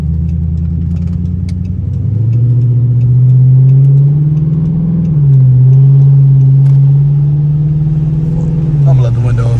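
Straight-piped Dodge Charger R/T engine droning loudly from inside the car while driving on street and highway, a steady deep rumble that rises slightly in pitch, with a faint voice under it.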